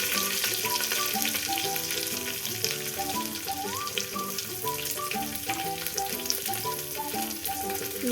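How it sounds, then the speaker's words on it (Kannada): Crushed garlic, curry leaves and onion fry in a pan for dhal, giving a steady, close sizzle with stirring scrapes, and background music plays throughout. "ಇವಾಗ ಈರುಳ್ಳಿನ ಸ್ವಲ್ಪ ಫ್ರೈ ಮಾಡೋಣ."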